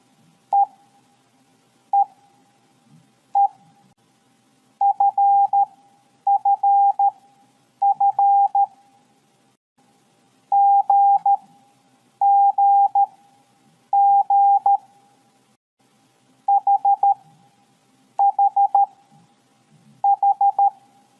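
Morse code tones near 800 Hz, clean and loud, sounded alone as a series of short dit-dah letter groups separated by pauses, in a navy communications lesson.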